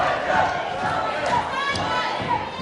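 Arena crowd at a televised wrestling bout cheers and shouts in a steady, fairly distant roar, with no single voice standing out.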